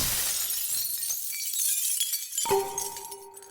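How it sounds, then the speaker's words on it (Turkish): Glass pane shattering in a cartoon after a robot leans against it, a sharp crash followed by bright ringing shards tinkling and settling, loud and close, with no talk. "Robot cama yaslandı ve cam paramparça oldu."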